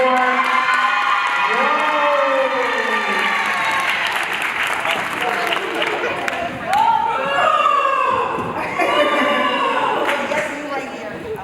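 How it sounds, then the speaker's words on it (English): At a girls flag football event, an audience breaks into applause and cheering for a player called to the stage. Dense clapping runs throughout, with whoops and voices rising over it. "Let's clap it up for her."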